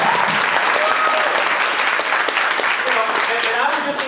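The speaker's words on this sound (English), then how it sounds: "Let's hear a round of applause for these guys." A studio audience claps in a sustained, lively round of applause on a late-night talk show, steady and close.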